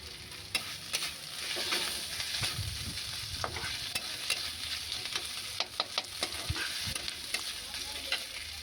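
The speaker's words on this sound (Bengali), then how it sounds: "টমেটো দিয়ে দিয়েছি, টমেটো দিয়ে নাড়ছি এবারে" Tomatoes with salt being stirred in a pan with cabbage, potato and peas for a Bengali curry, soft steady sizzling with repeated sharp scrapes and clicks of the spoon against the pan, close and fairly quiet.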